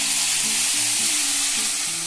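Black cumin seeds and a dried red chili sizzle steadily in hot oil, a dense, close crackling hiss that stays loud and even throughout with no voices.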